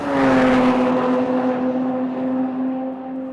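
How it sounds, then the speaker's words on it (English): A 2013 Jaguar F-Type sports car engine roars loudly at high revs in fifth gear on a track's back straight, a steady deep exhaust drone that slowly eases off in pitch and volume. "Now we're entering the back straight, so you'll hear some good exhaust."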